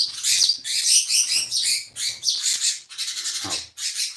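A five-day-old household pet bird squawks and chirps loudly and close by in a rapid string of harsh, shrill calls, with short pauses between bursts.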